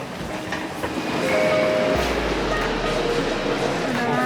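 A subway train runs through a Munich station at night with a loud rumbling roar and rattling wheels, while people talk faintly nearby.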